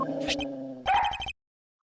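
A cartoonish dog barks in the Ace Attorney Investigations 2 video game: a tonal whine leads into a quick run of five or six sharp, close yips that stop abruptly into silence.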